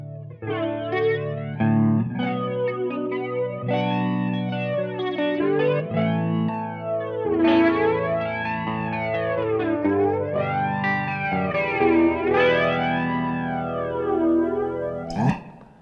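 Electric guitar chords played through an Orange Crush Pro 120 amp head with a flanger effect, sweeping and whooshing as it rises and falls continuously, loud and close with no talking.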